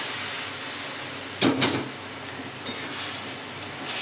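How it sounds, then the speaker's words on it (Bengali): Soaked dal tipped into sizzling masala in a pan for a home-style egg tadka, giving a steady hiss and frying crackle with a brief louder burst of sizzle and stirring partway through. "দেখুন ডালটা আমি দিয়ে দিলাম"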